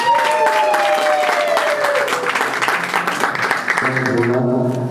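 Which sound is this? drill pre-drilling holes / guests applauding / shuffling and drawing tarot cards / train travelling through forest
guests applauding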